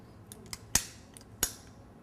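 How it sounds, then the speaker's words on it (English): A Kuhn Rikon cookie press trigger clicking as dough is pressed out, four crisp, close clicks with two louder ones standing out, spaced irregularly over a quiet background. "So one cookie, one click."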